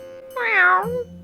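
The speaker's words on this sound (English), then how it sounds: "Thank God, it's just a cat." A single drawn-out cat meow from a video game rises and falls clearly over a low, steady background hum.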